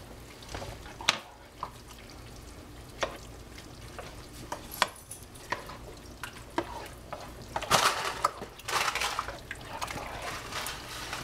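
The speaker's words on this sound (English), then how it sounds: "Now I'm going to stir all this together" Chunky meat spaghetti sauce, a jarred Ragu base with added onion, is stirred in a pot, giving a run of wet scraping and squelching strokes with occasional sharper clicks of the spoon against the pot, close and moderately loud with no talking.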